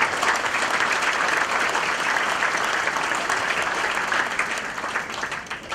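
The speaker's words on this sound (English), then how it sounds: "give our founding fathers a round of applause" Loud, sustained crowd applause in honour of Micronesia's founding fathers, a dense, continuous clatter of many hands clapping close by for several seconds, holding nearly steady throughout.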